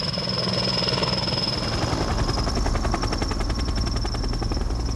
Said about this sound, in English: The Erickson S-64F air crane is the helicopter of choice for a job like this.